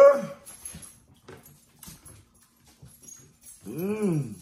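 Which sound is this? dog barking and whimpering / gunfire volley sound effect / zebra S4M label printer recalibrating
dog barking and whimpering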